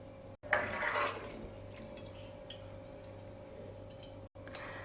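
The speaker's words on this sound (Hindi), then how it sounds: "सबसे पहले हम पोहे में साफ़ पानी डाल के इसे अच्छी तरह से धो लेंगे।" Clean water poured over poha (flattened rice) in a pot to wash it, a brief louder splash early on settling into soft trickling and dripping, close by with no talk.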